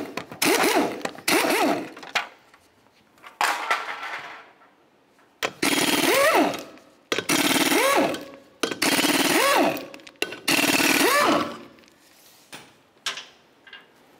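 Lug nuts being removed from the front wheel of a 2005-2010 Chevrolet Cobalt with a power tool, a series of loud, close bursts of whirring and rattling, several in a row separated by short pauses, with no talking.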